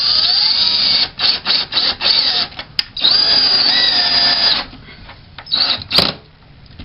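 Cordless power drill with a 4-inch bit driving into a wall stud through drywall, a close whining motor in several short bursts and one longer run, loud, with brief pauses between pulls of the trigger.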